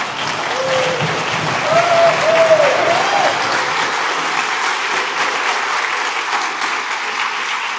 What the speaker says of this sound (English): please rise so everyone can give you a round of applause.